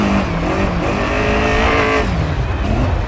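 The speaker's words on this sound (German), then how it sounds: "Ein bisschen Motor lauter." A rally car engine in the video game DiRT 4, running with its bonnet removed. It roars loudly and steadily, its pitch climbing and dropping as it revs through gears.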